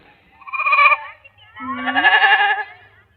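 Goats bleat twice, close and loud: a short wavering call, a brief pause, then a longer, louder quavering bleat, with no other sound around them.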